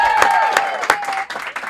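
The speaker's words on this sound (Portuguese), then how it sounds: "Gente, eu quero a palma mais alta, que o episódio foi um espetáculo!" Audience clapping at the close of a podcast episode, several sharp bursts of applause in a loose rhythm that thins out toward the end, close and fairly loud.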